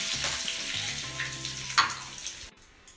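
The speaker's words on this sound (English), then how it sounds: "Now add mustard and urad dal. Let it fry well." Mustard seeds and urad dal fry in hot oil for a tadka, a close crackling sizzle with a few sharp pops before it cuts off abruptly near the end.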